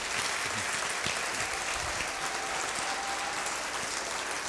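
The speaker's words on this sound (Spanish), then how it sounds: "Si le vas a dar un aplauso al Señor, dáselo, pero con ganas" A church congregation bursts into sustained, enthusiastic applause, dense clapping filling the room at steady loudness throughout with no talk over it.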